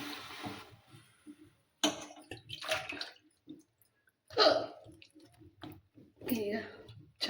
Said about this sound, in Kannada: ಈಗ ಇದಕ್ಕೆ ಅವು ಹೆಚ್ಚಿದ ಬಟಾಟಿನ ಹಾಕ್ತೀನಿ ನೋಡ್ರಿ.